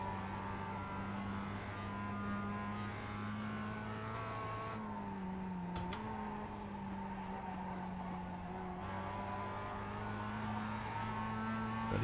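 Steady engine drone from a Mazda MX5 pulling through the gears, a smooth mid-volume hum whose pitch holds and then drops briefly at a shift before settling again, with no one talking.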